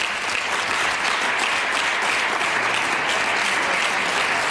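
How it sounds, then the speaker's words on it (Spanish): Sustained applause fills a parliament chamber, a steady dense wash of many hands clapping at even loudness throughout, with no voices rising above it. "han escuchado los aplausos, ¿verdad?"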